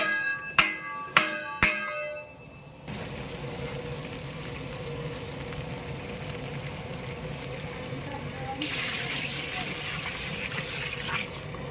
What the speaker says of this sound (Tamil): மசாலாலாம் போட்ட உடனே இப்போ தேவையான அளவுக்கு தண்ணி ஊற்றணும்